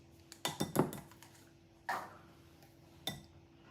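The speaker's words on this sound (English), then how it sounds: "Just give it a quick mix. My whisk." Whisk clinking against a bowl while mixing pumpkin pie spice into dry cookie ingredients: a quick cluster of light metallic taps, then two isolated clinks, close and fairly quiet with no talking.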